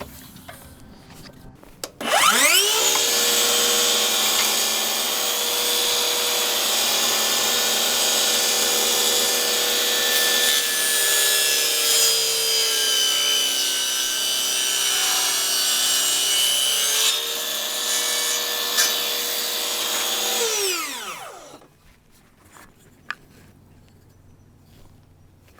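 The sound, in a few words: Ryobi 18V table saw cutting wood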